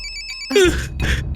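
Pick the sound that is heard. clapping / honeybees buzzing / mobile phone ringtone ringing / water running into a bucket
mobile phone ringtone ringing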